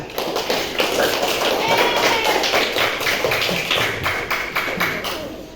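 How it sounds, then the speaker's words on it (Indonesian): Children in a classroom clap together in a dense, steady burst of rhythmic claps, fairly close and loud, with a few voices mixed in underneath. "Tepuk tangan untuk kalian."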